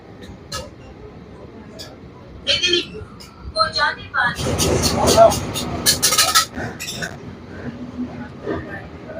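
A Howrah to Medinipur local train pulls away from platform two at Deulti, with rumbling and clattering rising to a loud burst mid-clip, then easing; bits of voice and clinks are mixed in nearby.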